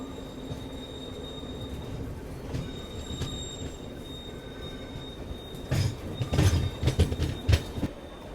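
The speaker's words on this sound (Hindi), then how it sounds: "वहाँ से कोई तो ट्रेन आ रही है। बिल्कुल पैरेलल में अराइवल हो रहा है" A passenger train arrives on a parallel track beside a Shatabdi Express coach near the Tirupati line. Steady rolling rumble builds, then loud wheel squeal and clatter rise near the end, with no talking.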